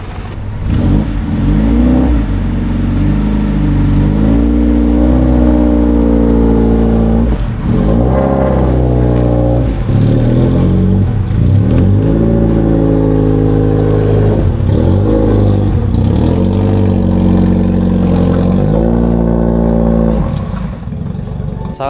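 A 1989 Toyota Corolla AE92 small body runs with a low, rough idle, its engine droning loudly up close and rising and falling through repeated revs.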